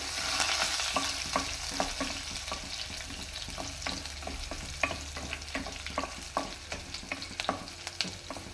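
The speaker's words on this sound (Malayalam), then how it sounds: "ഇനി നമ്മുടെ ഇച്ചിരി ഉള്ളിയിടാം, കരിവേപ്പിലയിടാം, 2 മുളക് മുറിച്ചിടാം. നമുക്കൊന്ന് ഇളക്കി കൊടുക്കാം." Onion, curry leaves and cut chillies frying in a pan with a steady sizzle, while a spoon scrapes and stirs in repeated clinks and scuffs close by.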